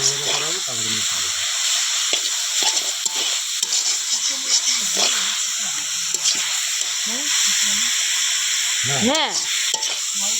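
Potatoes sizzle and hiss in a pan over an outdoor village courtyard fire, a steady frying crackle with occasional stirring scrapes while people talk nearby.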